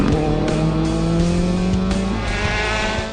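A rally car racing on asphalt at the 2016 French Asphalt Rally Championship, engine loud and close with a sustained rising tone, tires squealing and the engine note shifting through gears, no talk.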